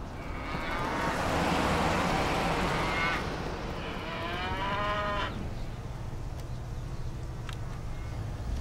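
Cattle moo loudly in long drawn-out calls, one after another, over a low rumble of passing road traffic.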